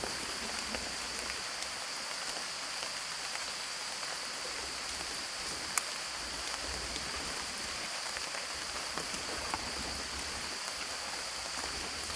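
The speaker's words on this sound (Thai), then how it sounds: "บรรยากาศตอนนี้ก็ฝนตกปล่อย ๆนะครับ" Light drizzle falls steadily at an elephant camp in Nan, a soft, even patter of raindrops with a faint high constant hum from insects, no speech.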